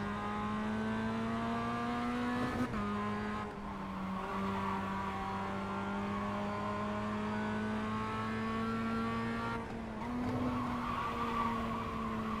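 A race car engine in the iRacing video game holding a steady high whine, with two brief drops and recoveries in pitch during downshifts, mixed with some skidding tire noise.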